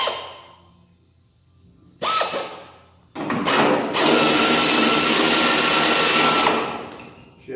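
Power tool, drill or impact type, removing fender bolts on a 1967 Dodge Dart: a short burst near two seconds, then a longer loud continuous run of about three seconds, close by, with no talk.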